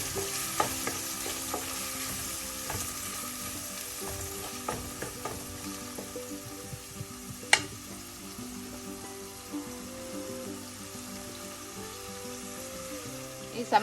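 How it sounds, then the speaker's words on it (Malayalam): Crushed ginger and garlic stirred and frying in hot oil for a Kollam-style mackerel pepper curry, a steady close sizzle with scattered small pops and occasional utensil scrapes throughout, no voices. "ഇഞ്ചി ചതച്ചത്, വെളുത്തുള്ളി ചതച്ചത്, എല്ലാം കൂടെ ചേർത്തൊന്ന് മിക്സ് ചെയ്യാം."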